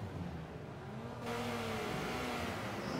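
Race car engines in Forza Motorsport 5 drone steadily at the grid, a constant mid-level hum that swells louder partway through as engines rev up, with no talking.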